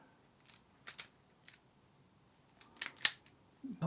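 Wire strippers used on wire: a few sharp, close metallic snips and clacks in two short bursts separated by a quiet gap.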